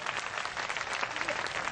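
A large crowd at a political gathering in Patan applauds to welcome Narendra Modi. Dense, sustained clapping holds at a steady loud level for a short stretch, with no voices over it.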